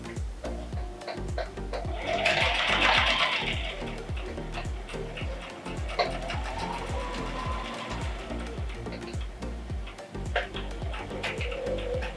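A sewing machine stitches quilt fabric in a steady rapid run of mechanical ticks and thumps that continues throughout, with a brief whirring rise partway through and no talking in the clip.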